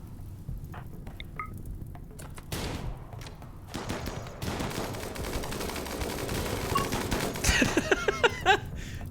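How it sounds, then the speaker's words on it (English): Double miniguns firing in the RimWorld video game, rapid crackling bursts of gunfire that come in several volleys and build denser toward the end, amid scattered impacts. "Double minigun is a hell of a drug, by the way."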